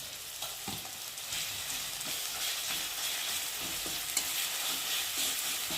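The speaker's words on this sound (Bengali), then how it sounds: "আদা রসুনটা একটু ভালো করে ভেজে নেব।" Ginger and garlic paste frying with onion in hot oil makes a continuous close sizzle, broken by light clicks and scrapes of stirring across the pan. No voices.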